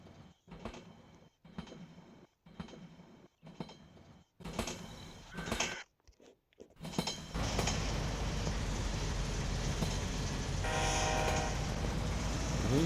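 A game train with GP7 locomotives in Train Sim Pro rumbles in bursts with short clicking gaps, then settles into a steady, loud roaring drone as it runs through a tunnel.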